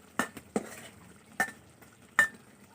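A spoon knocks and scrapes in a cooking pan while salt is stirred before koi fish go in: four sharp clinks spaced irregularly over a quiet background.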